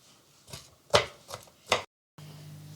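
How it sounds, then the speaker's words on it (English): Knife chopping half an onion finely on a board in a home kitchen: four crisp, separate chops about half a second apart, close and fairly loud, then a short silence and a steady low hum. "she now has to chop her onions up very fine for him"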